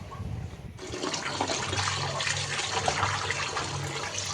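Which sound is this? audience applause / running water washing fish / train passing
running water washing fish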